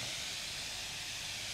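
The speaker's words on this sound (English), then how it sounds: "Kulu's got his favorite griddle pan on the go. And all the chicken sizzling on it." Chicken pieces sizzle on a griddle pan, a steady, close hiss of searing fat with no breaks across the short stretch, loud and alone without any voices.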